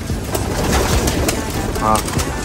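Soft pigeon cooing close by amid a busy, noisy background, with a brief throaty coo standing out near the end.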